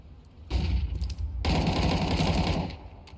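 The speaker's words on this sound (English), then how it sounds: "I don't know why I hear gun noise in the background" Rapid automatic gunfire in Counter-Strike 2, bursts of fast repeated shots that start after a short pause and continue densely for about two seconds before cutting off, fairly loud and alone with no talk.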